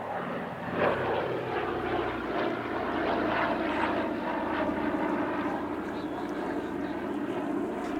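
A Douglas Dakota propeller aircraft flies at an airshow, its engine drone a steady, fairly loud roar that holds for several seconds, with a voice talking over it.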